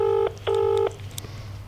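Telephone dialing: two clear electronic tone bursts, one short and one longer, come through distinctly, followed by faint background noise.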